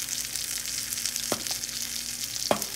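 Salmon frying skin-side down in a pan, a steady close sizzle and crackle with two brief taps of a utensil, no talking.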